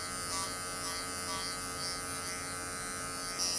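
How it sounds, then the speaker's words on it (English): Electric clippers buzz steadily and close up while trimming hair on a male dog's inner thigh and groin area, a continuous whirring drone with slight wavers in pitch as the blades move through the coat. "I'm going to clip the other side of the inner thigh"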